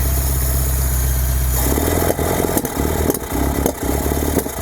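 Engine of an abandoned Bedford Rascal van held at full throttle on its first start in six years, a loud steady drone with a strong low rumble that dips and surges briefly, close up and with no talk.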